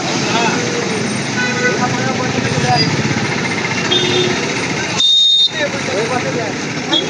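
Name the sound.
road traffic with cars and horns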